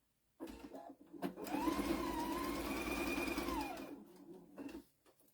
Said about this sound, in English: drop your stitch length to a 2, and then you just sew.